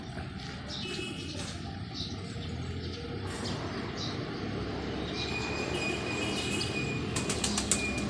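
Pigeons flapping their wings during a morning loft fly, a dense fluttering texture over steady background rumble, with faint chirps and sharp clicks toward the end.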